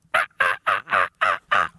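A wild turkey in a Connecticut tree roost at dawn during spring season gobbles loudly and near, six rapid, evenly spaced rattling bursts.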